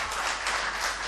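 Audience applause at a mushaira poetry recital in Bareilly, a steady, dense wash of many hands clapping at once, fairly quiet and distant-sounding, lasting about a second with no voices over it.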